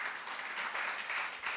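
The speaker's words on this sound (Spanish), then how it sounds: "¿Cuántos le dan un fuerte aplauso a nuestro Padre Celestial?" A church congregation applauds together, a steady, dense wash of clapping that stays fairly faint throughout, with no voices over it.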